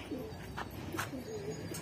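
Soft pigeon coos repeat a few times against a steady, noisy background.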